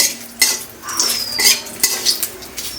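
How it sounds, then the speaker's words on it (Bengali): Cumin seeds dropped into a little hot oil in a pan with bay leaves for pork kosha, giving light crackles and a metal spoon clinking and scraping against the pan, close and brief with no talking. "অল্প তেলে দিই জিরে"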